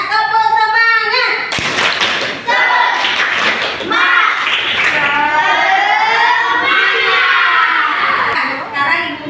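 Children clap a rhythmic cheer in an elementary classroom during a magnet science lesson, bursts of patterned claps and voices filling the room, loud and close, with a teacher's speech at the start.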